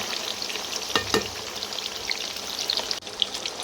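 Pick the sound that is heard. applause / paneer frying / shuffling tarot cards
paneer frying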